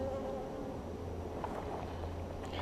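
Honeybees swarm and hum steadily around an open hive during a spring hive check, a dense continuous drone close by with no talk over it.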